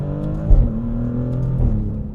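Maserati GranTurismo Trofeo engine in Sport mode, rumbling steadily and close, with sharp rev blips as the driver downshifts manually a couple of times.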